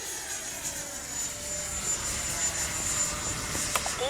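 FMS 70mm F-18F twin electric ducted-fan RC jet flying overhead, a steady whooshing whine holding level, with a brief sharper sweep near the end.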